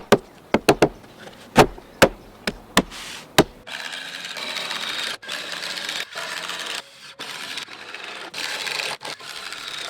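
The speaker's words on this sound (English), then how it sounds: "I also install a total of 10 screws on the top of the steps, 6 into the cleats, and 4 along the front down into the riser." Screws are driven into wooden outdoor deck stair treads, with a series of sharp knocks early on followed by the whirring bursts of a drill running in short, repeated runs, close and alone.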